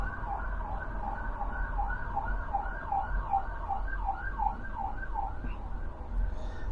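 An emergency vehicle siren wailing steadily in a fast repeating up-and-down pattern, moderately loud and continuous, over a low rumble of road traffic.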